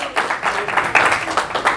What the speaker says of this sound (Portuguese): Salva de palmas para o Senhor.